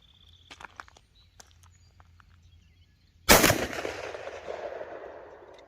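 A single loud, close gunshot from a Rock Island Armory 10mm 1911 pistol cracks after a stretch of quiet outdoor shuffling and small clicks, followed by a decaying echo.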